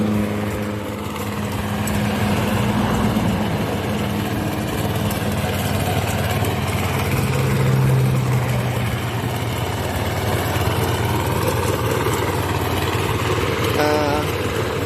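A 7 hp mini tiller engine chugs steadily and loudly up close while plowing at slow speed, a rough continuous rumble with slight shifts in load, and a voice talks over it.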